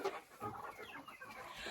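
Chicks in their enclosure making soft, quiet clucks and peeps, several brief calls close by, with no talk.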